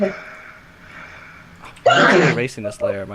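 A single sharp sneeze bursts out loudly after a person's quiet speech, followed by more talking.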